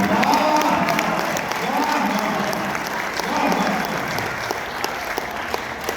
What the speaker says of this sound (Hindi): अभी तालियां